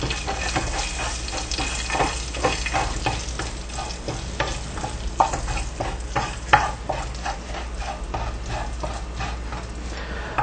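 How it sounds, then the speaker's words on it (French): Whole spices, cinnamon, cardamom and cloves, fry in a pan for a royal rice dish, a continuous sizzle broken by repeated scraping and stirring clicks. "Nous allons les faire frire, nous allons les faire chauffer MC pendant quelques minutes."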